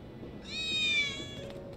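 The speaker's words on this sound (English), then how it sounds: "I think one of Betty's cats might be near" A cat meows in Final Fantasy VII Remake, a single drawn-out, rising then falling meow lasting about a second, clear and fairly close over a low ambient game background.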